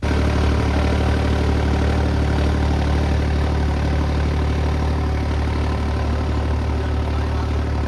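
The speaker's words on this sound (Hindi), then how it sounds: "ट्रैक्टर भी अपना काफ़ी बढ़िया काम कर रहा है" Eicher tractor on 12/4/28 tyres running at a constant loud, low diesel drone during potato sowing in a field, steady throughout with no pauses.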